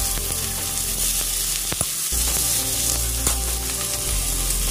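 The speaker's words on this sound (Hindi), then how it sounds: "प्याज थोड़ा थोड़ा लाल होना शुरू हो गया है, तो अब क्या करेंगे, हम इसमें शिमला मिर्च को डाल देंगे।" Onions and capsicum frying in a pan for chilli paneer give a loud, steady sizzle, with a few brief clinks of stirring close by.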